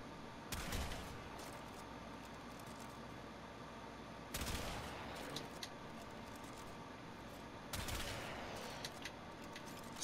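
Tigris Prime shotgun in Warframe blasting Corpus tech enemies with gas and magnetic damage: three loud, booming discharges spaced about four seconds apart over a steady low background hum, no voices.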